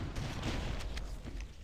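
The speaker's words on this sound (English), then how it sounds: "There is explosions going off everywhere." Explosions going off all around in the shooter Halo: Combat Evolved, a dense rumbling wash of booms and blasts with a few sharper bursts, loud and continuous.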